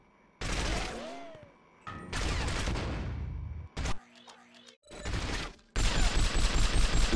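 Gunfire in the James Bond 007 From Russia with Love video game: loud, dense bursts of shots and crashes in several blocks, separated by brief mechanical clicks and quieter gaps.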